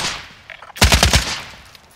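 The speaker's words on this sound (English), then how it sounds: "Don't worry about the firing." Burst of rapid gunfire in Call of Duty: Modern Warfare, a tight cluster of five or six loud, close shots fired in quick succession after a quiet stretch, then fading.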